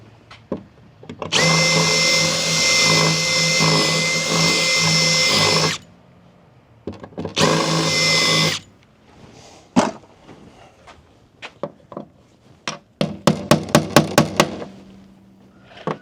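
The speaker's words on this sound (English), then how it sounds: "want to drill all the way through it" A power drill bores through a part on a 1983 Kenworth K100 truck during headlight and heater box work. It gives two loud sustained runs, then scattered clunks and a stuttering burst of short pulses, all close by.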